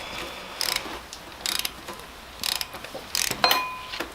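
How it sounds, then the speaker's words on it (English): Torque wrench set to 70 foot-pounds ratcheting on clutch bolts to a flywheel of a built SR20DET, close clicking bursts in four or five short, evenly spaced strokes with quiet pauses between. "So I'm just gonna go ahead and start torquing."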